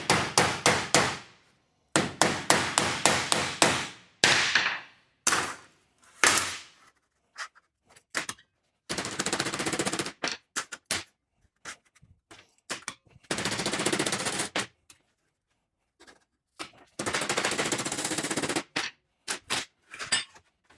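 Heavy hammer blows on metal while working the suspension of a 1937 Lincoln Zephyr, loud sharp strikes in rapid bursts of several hits, with pauses and stretches of broadband scraping or grinding noise between them.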